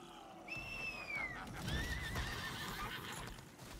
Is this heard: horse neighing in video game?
yes